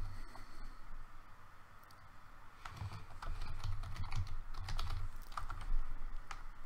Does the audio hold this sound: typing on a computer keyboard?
yes